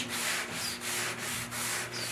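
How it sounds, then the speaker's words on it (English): A foam sanding block rubbed along the edge of chalk-painted furniture in steady back-and-forth strokes, about five or six rhythmic scratchy passes, close and clear with no talking. "I'm just gonna rub my foam sanding block right along the edge."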